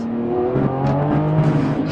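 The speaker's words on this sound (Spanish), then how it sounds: "El sonido del V12 es salvaje" A powerful Lamborghini V12 engine revs hard and steadily, its deep, throaty roar rising and holding with layered harmonics, loud and close throughout.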